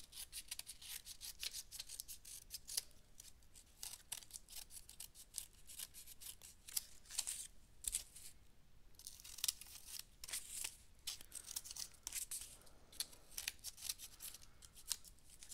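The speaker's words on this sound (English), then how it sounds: "the last step is I'm going to trim around the edges" Scissors trimming the edges of a mixed media paper collage, producing a quick series of crisp snipping cuts close to the microphone with soft paper rustling in between.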